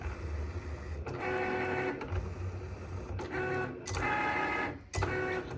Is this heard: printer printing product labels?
yes